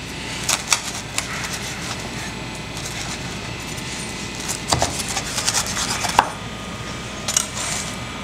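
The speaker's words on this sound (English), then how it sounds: "I'm going to slice into this pizza now." Knife cutting through a crispy homemade pizza crust topped with chili flakes, producing close, scratchy crunching and rasping strokes with several sharp crackly bursts spread across the cut.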